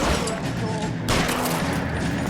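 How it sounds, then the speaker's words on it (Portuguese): A heavy shootout in the video game L.A. Noire, with dense overlapping gunfire and bangs rattling continuously at moderate loudness, some voices mixed underneath. "Meu Deus, mano, é muito tiroteio"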